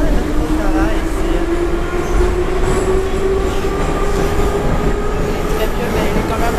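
Moscow metro train in motion, a loud continuous rumble of wheels on rails with a sustained tonal whine and faint clacking, filling the whole stretch without pause.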